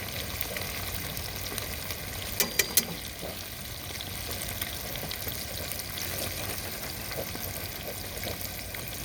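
Fish frying in a pan at an outdoor Fourth of July cookout, a moderate steady sizzle with a few sharp clicks and light stirring noises, no voices.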